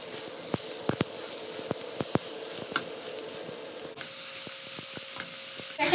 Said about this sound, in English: we're going to saute our seasoned ground turkey for about 5 minutes, breaking it up, stirring and breaking it up intermittently